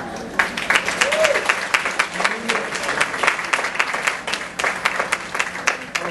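An audience at a hair show claps steadily in a dense, continuous burst of applause that holds its level for several seconds.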